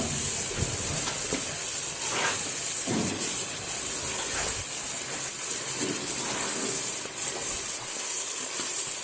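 Boiled chickpeas roasting in a pan give off a steady, close hiss and sizzle throughout, with occasional louder crackles and stirring scrapes rising over the constant frying noise.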